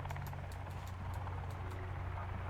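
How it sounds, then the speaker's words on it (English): A helicopter in the survival game Sons of the Forest flies overhead, heard as a steady low rotor drone that holds evenly throughout, with faint clattering ticks scattered above it. "That chopper right there? They fly overhead"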